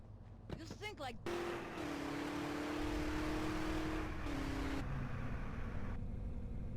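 A car drives in GTA San Andreas Definitive Edition, its steady engine drone holding at a constant pitch with a brief dip partway through, loud and continuous after a short opening burst of sound.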